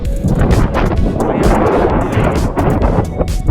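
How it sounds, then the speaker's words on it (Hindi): Cool mountain wind on the road to Barot Valley, Himachal Pradesh, roaring loudly and buffeting the microphone in steady gusts throughout. "ठंडी ठंडी हवा चल रही है।"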